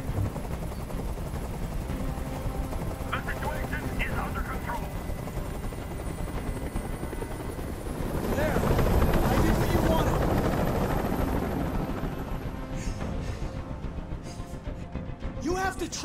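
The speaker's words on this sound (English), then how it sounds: "Tell that helicopter to get out of here!" Helicopter hovering overhead during a tense hostage standoff, a continuous loud rotor thrum that swells around the middle, with shouting voices over it.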